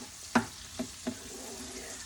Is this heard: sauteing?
yes